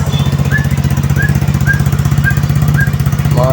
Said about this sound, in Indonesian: motor sudah mau hidup.